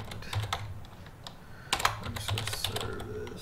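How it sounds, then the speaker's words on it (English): Someone types commands on a computer keyboard while installing server software on Ubuntu Linux: close, irregular bursts of plastic key clicks with short pauses and a few firmer keystrokes. "We should see what I'm typing."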